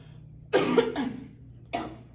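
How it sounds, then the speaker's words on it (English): Two harsh coughs from one person, close by, the first a double burst, then a pause and a third single cough. "Keep coughing."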